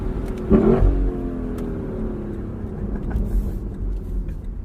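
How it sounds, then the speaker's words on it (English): A 2021 Lexus LC 500 Convertible engine revs hard up to its rev limiter, a loud rising bark that bounces off the limiter and then drops back to a steady drone. "that has got to be one of the most intoxicating rev limiters on sale today"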